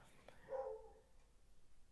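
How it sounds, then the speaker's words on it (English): A single short dog bark, fairly faint and somewhat distant, followed by quiet room background. "So that's my dog barking."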